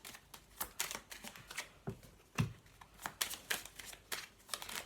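Tarot cards are shuffled and pulled from a deck, giving a series of quick, crisp riffles and soft slaps in irregular bursts, close and fairly quiet, with no talk.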